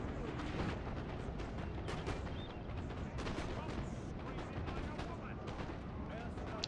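Battlefield din from Napoleon Total War, a dense continuous roar of cannon and musket volleys with rumbling booms layered throughout, with someone talking over the top.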